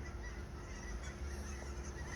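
Geese honking as they fly overhead, faint and distant above low background noise, for a couple of seconds.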